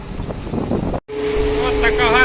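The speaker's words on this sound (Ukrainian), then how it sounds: "Починає вітер зірвуватися." Steady wind rumbles and buffets against the microphone over a dusty seed-wheat harvest with a John Deere 952 combine, broken by a brief cut, then continues with a hum and a faint voice.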